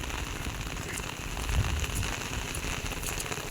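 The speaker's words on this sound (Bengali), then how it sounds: "রাত থেকে বৃষ্টি হচ্ছে বন্ধুরা।" Steady rain patters on surfaces nearby, a continuous hiss with scattered drop taps.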